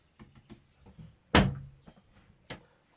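A van cupboard door shuts onto a magnetic catch with one sharp, close thunk that rings off briefly, followed later by a lighter knock, amid quiet handling clatter.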